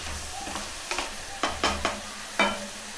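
Egg omelet masala frying in a pan, a steady close sizzle with several sharp clinks of a spoon or spatula stirring against the pan.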